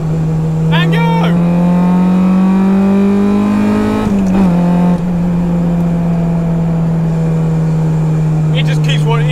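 A K20A2-swapped Honda Civic EG accelerates hard from about 50 mph after a downshift, its engine a loud, sustained drone climbing steadily in pitch, briefly dipping at a gear change before pulling on, heard from inside the car.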